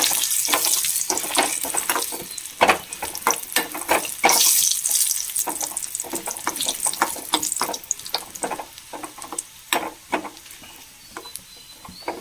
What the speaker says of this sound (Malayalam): ഈ സിമ്മിൽ വെച്ചിട്ട് നമുക്ക് കൊണ്ടാട്ടം മുളകിനൊന്ന് വറുത്തെടുക്കാം